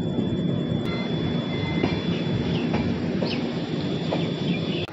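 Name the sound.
train arriving at station platform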